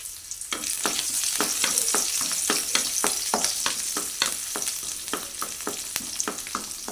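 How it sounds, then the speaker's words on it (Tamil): Sliced onion frying in hot oil with dried red chillies, a loud continuous sizzle broken by regular scraping strokes of a spatula, steady and close. "வெங்காயம் வதங்கட்டுங்க"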